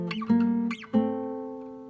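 Two sustained plucked guitar chords playing a harmony part for a song, the second ringing out and slowly fading, with bright string attacks and no voices.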